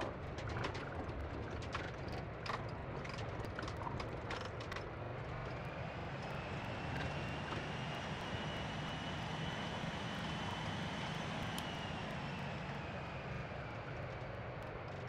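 A Delta Airbus A330 airliner on landing, heard as a steady, loud roar of engines and rushing air from close by, with a faint rising whine and a few brief clicks early on; no voices.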